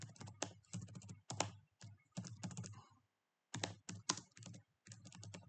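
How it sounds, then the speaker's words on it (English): Computer keyboard typing in rapid bursts of close clicking clatter, a pause near the middle, then more fast keystrokes, heard alone without speech. "Sorry, my keyboard."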